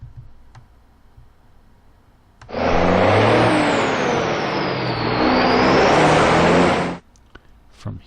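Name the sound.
military vehicle engine moving up in a video game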